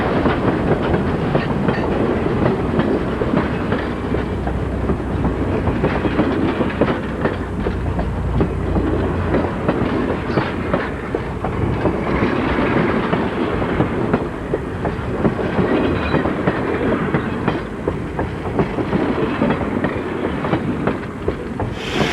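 Yreka Western Railroad locomotive 19 pulls an excursion train into Cottage Grove, a steady loud rumble of wheels and running gear with rhythmic clickety-clack, close by and continuous, with no voices.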